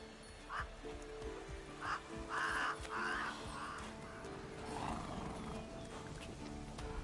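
Geralt's horse Roach in The Witcher 3, with hoofbeats and snorting mixed with crow-like calls and game background sounds, moderately loud with a few prominent bursts early on.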